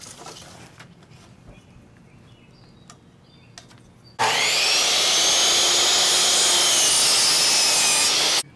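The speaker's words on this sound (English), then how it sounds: "Let's get started cutting those" A power saw, either a table saw or a circular saw, cuts a 31 3/4 inch wooden leg for an elevated raised garden bed table, its loud, continuous whining roar lasting about four seconds before stopping abruptly.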